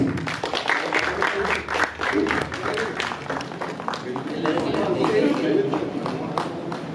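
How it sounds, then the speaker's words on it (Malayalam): A crowd at a film's success celebration claps and cheers in a lively round of applause, with voices shouting and talking over the clapping throughout. "ഒരു കൈയടി, റൗണ്ട് ഓഫ് അപ്ലോസ് പ്ലീസ്"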